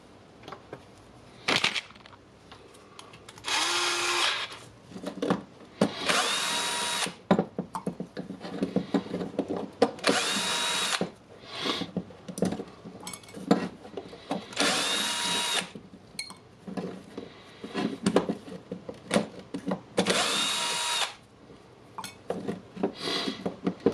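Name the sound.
unscrewing Dewalt brushless drill transmission housing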